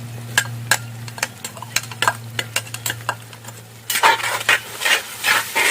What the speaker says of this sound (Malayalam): നമുക്ക് ഇഞ്ചി വെളുത്തുള്ളി ചതച്ചത് നമുക്ക് ഇട്ട് കൊടുക്കാം ഇതിനകത്തേക്ക്.